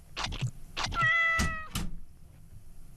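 A cat meows several times, close and clear: a couple of short calls, then a longer drawn-out meow and a few brief ones, with faint room background.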